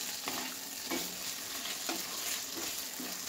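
Tomatoes and salt stirred into moong dal khichdi in a pot, a continuous bright sizzle broken by regular spoon scrapes roughly once a second, close and alone without talk.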